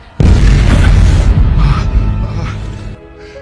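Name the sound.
bomb explosion in a film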